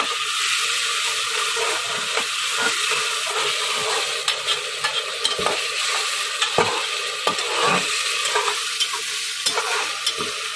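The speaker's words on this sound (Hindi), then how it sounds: "लहसुन अदरक को करीबन 1 मिनट के लिए हम भूनेंगे।" Steady, close sizzling of garlic ginger paste frying in hot oil, with a constant crackle and occasional soft scraping and stirring knocks, no voices.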